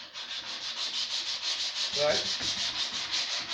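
Hand sanding of an old timber table: a steady, rhythmic back-and-forth rasp of abrasive paper on wood, close and continuous, with someone speaking briefly in the middle.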